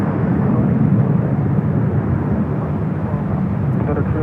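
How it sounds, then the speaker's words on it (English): A Japan Airlines Boeing 787 Dreamliner takes off at Los Angeles LAX airport, a steady, loud broadband jet roar holding throughout, with voices talking over it. "The Dreamliner with Japan Airlines should be the next takeoff."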